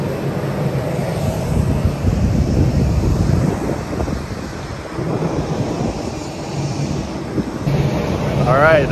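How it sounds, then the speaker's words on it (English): A large airplane passes overhead outdoors, a steady broadband roar with wind buffeting the microphone, holding loud throughout and swelling slightly toward the end. "pretty big plane actually right there."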